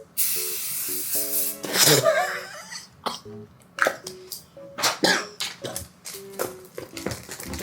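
Short hissing bursts of Cryolan Fixing Spray makeup setting spray come in quick succession between pauses, mixed with small clicks and soft tones, fairly close.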